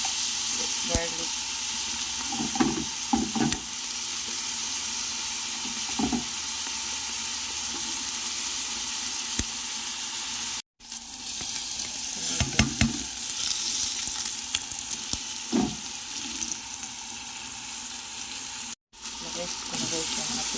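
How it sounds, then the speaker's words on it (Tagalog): Garlic sizzles in a hot pan as the first step of an Arabian meat kabsa, a steady bright frying hiss with occasional stirring scrapes and brief clatters, running continuously with two short dropouts. "Lagay na ako guys ng unang garlic."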